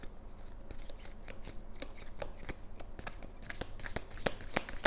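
Oracle cards being shuffled by hand in a steady run of crisp riffling flicks and soft slides, close and moderately quiet, with no talking.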